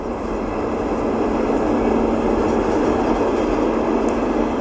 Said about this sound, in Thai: แล้วเดี๋ยวขบวนรถนะครับ ก็จะเลี้ยวซ้ายไปทางเส้น องคลักษ์นะครับ แก่งคอย